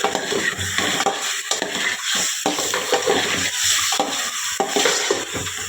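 Eggplant masala sizzling on low flame in a pan while a spoon stirs and scrapes through it, a close, steady frying hiss broken by repeated stirring strokes.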